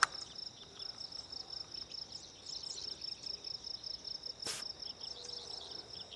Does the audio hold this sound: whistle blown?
no